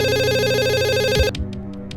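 A telephone rings at a police station, a steady electronic ring with evenly pulsed tones that cuts off abruptly partway through, leaving faint room sound.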